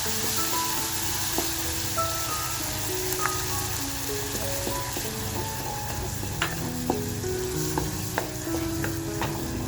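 Ground homemade masala frying in oil in a clay pot for Malvani surmai curry, a dense, continuous sizzle with scattered pops and faint spoon clinks throughout.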